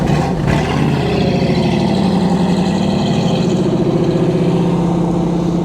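A 1968 Chevrolet Camaro engine sounds loud and close, idling with a steady low rumble and then revving as the car pulls away, with no talking.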